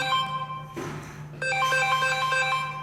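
Phone ringing indoors, a loud electronic ringtone with sustained tonal notes, broken by a brief noisy rustle before the ringing resumes.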